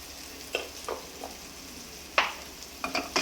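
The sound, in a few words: stirring garam masala and salt in frying pan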